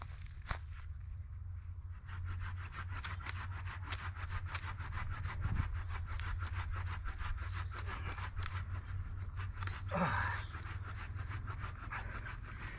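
Dead willow branches being sawn low for a bushcraft bed in the woods: a steady, rapid rhythm of close saw strokes through wood, continuing throughout with a couple of brief snaps.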